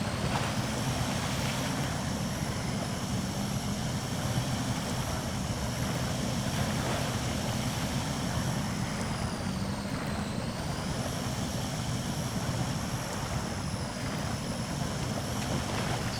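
Rescue truck in the SnowRunner video game plunging into water, a steady loud low engine rumble with a churning broadband wash, continuous and close with no talk.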